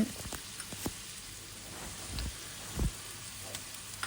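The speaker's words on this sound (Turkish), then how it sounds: "Yine karıştırıyorum." Vegetables being stirred in a frying pan over medium heat give off a faint, steady sizzle, with a few soft scraping knocks from the stirring spoon.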